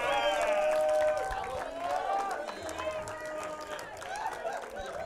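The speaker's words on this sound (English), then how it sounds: "Give the Lord a hand clap and a shout" A church congregation at a preaching service claps and shouts together in a loud, continuous crowd roar, with many raised voices and cheers layered over rapid hand claps throughout.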